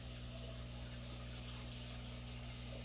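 An aquarium pump drives water flow in a rainbow trout tank, giving a steady, continuous low hum and faint rushing water, constant and alone throughout.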